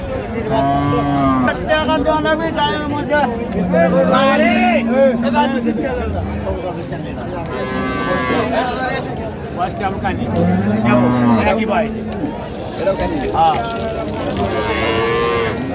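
Dairy cows and calves moo repeatedly and loudly at Raniganj cattle market in Dinajpur, with long drawn-out calls rising over constant crowd chatter and people talking nearby.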